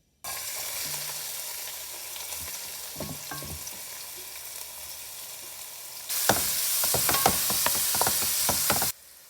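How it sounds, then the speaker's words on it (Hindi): Finely chopped onion dropped into hot oil with bay leaves and cloves, a steady sizzle that surges much louder and brighter partway through as the onion hits the pan, with scattered crackles and spatters, no talking. "अभी इस ऑयल के अंदर एक अनियन मैंने बारीक काट लिया है, वो उसके अंदर डालेंगे"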